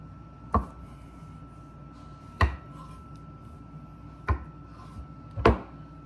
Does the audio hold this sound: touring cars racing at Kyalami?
no